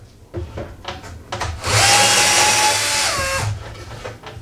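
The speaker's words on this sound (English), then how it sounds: "stick my drill through" A power drill whirs in a single loud burst of almost two seconds as it bores through a wooden piece for a homemade overhead camera rig, its pitch dipping near the end, with softer handling noises around it.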